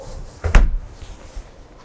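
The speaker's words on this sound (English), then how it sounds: "And then it reminds me to close the door." A NEFF steam oven door shuts with a single soft thud and brief rattle, close by in a quiet kitchen.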